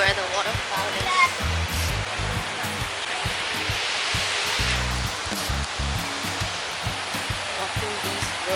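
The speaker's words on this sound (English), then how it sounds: "Where the waterfall is." Waterfall in Bali roaring as a steady, broad rush of falling water that fills the whole clip, with a person talking over it and low thumping noises, probably footsteps.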